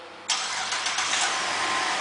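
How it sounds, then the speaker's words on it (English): A 2007 GMC Acadia SLT engine turns over by remote start: a sudden crank catches and settles into a steady, fairly loud idle with a few brief surges as it fires up, heard close with no talking. "and the car turns on"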